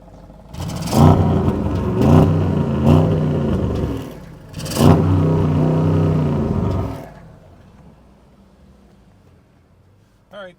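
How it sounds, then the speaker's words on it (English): A 2025 Audi RS 6 Avant with the RS sports exhaust revs twice in loud, throaty bursts, each climbing then settling, before the engine falls back to a quiet idle. "you're going to have to listen to this exhaust, because part of this package is the RS Sports exhaust system."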